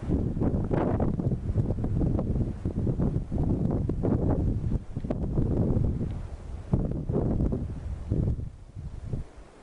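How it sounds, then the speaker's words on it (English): Wind blows in strong, uneven gusts that buffet the microphone, a loud rumbling rush rising and falling in waves over nearly ten seconds with no voices. "Touch that hears the sound of the wind."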